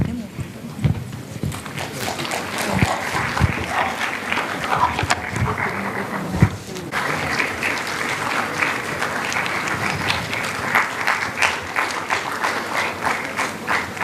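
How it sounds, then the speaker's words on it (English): Students applauding at a knowledge session, with loud, sustained clapping throughout and voices audible alongside it. "Students, let's encourage them by giving a big round of applause."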